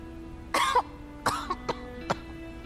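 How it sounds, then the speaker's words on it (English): A female video game character in Lost Eidolons coughs in a short fit: one long, harsh burst, then three or four quicker, fainter coughs, close and alone over a low steady hum. "going into a coughing fit"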